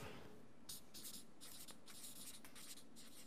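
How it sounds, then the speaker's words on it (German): Marker or chalk strokes on a board, a quiet series of short scratchy scrawls as a word is written, separated by brief pauses, with no talk. "ich schreibe das mal"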